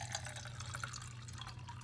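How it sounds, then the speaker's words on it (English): Water pours from a tap into a cup until it is about a quarter full, a steady close trickling and splashing with a constant low hum underneath. "let me begin by filling my cup"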